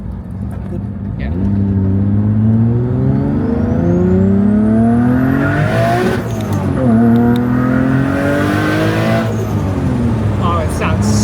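A modified 600hp-plus Nissan R32 GTR turbo engine revs up and down in repeated loud rising sweeps from close range, with passengers talking over it.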